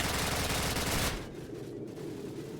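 Suppressing machine gun fire rattles in a Modern Warfare video game, a loud, dense burst of rapid shots that cuts off abruptly after about a second, leaving a quieter low rumble.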